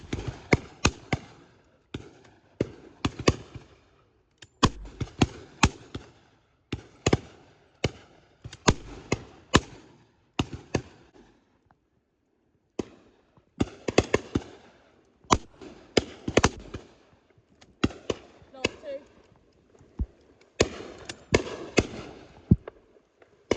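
Shotguns fire during a driven partridge shoot on Exmoor, with many sharp bangs in irregular clusters, some loud and near, others fainter and farther, separated by brief quiet gaps.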